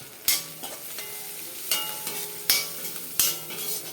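Beetroot curry with turmeric and chili powder sautéing in a pan, a continuous sizzle broken by four or five sharp scrapes and knocks of a stirring spoon against the metal.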